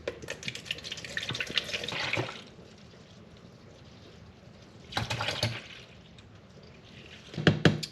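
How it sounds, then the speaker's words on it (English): Hot water running from an indoor faucet, drawn for cleaning a motorcycle gas tank, in three bursts of rushing, splashing flow separated by quieter pauses, close and fairly loud. "run some hot water"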